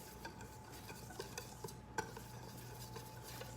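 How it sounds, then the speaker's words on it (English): A whisk stirring tapioca and coconut flour in a bowl, quiet rhythmic scraping with a few light clinks against the bowl, close but faint, no voices. "I'm just aerating it and making sure there are no lumps with the whisk"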